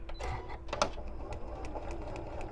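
A sewing machine bastes a paper-pieced quilt block, its needle clattering in quick, even bursts at low volume, close up and alone.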